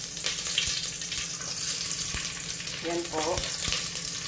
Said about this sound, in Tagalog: Ilagay ko na po yung bawang.